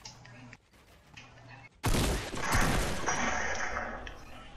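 Gunfire in Fortnite, aimed at a player's stairs, erupts suddenly after a quiet mechanical stretch, a loud dense burst with impacts that trails into sustained rattling noise.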